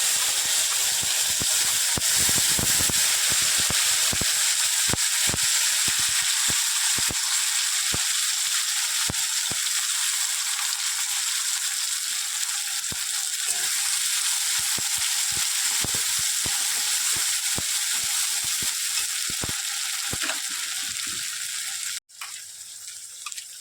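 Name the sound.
spices frying in a pan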